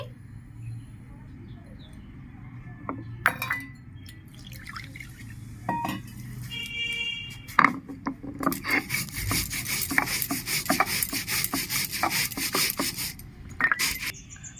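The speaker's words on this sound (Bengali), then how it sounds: "পোস্তটা বেটে নিচ্ছি" Poppy seeds being ground into a paste on a grinding stone in a home kitchen, a steady rasping, rubbing scrape repeated close up, growing denser and louder in the second half with a few sharp clinks.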